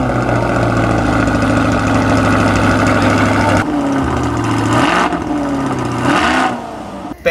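A 6.2-litre naturally aspirated V8 of a 2020 C8 Corvette runs steadily with a deep, rumbling idle, then blips and revs briefly before settling, all close and continuous with no talking.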